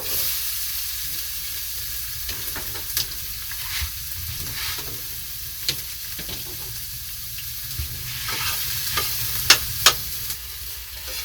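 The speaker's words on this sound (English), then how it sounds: "getting oil up to temp, and then let's add some onions." Onions sizzle and crackle in hot oil in a pan, a steady close hiss with occasional stirring scrapes and pops throughout.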